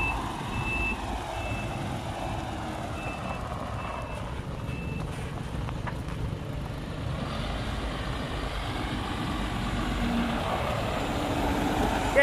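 MAN TGS 33.480 truck pulling an Extreme Pro trailer in reverse at a construction site, a faint repeating reversing beep over a low rumbling diesel engine, fairly distant.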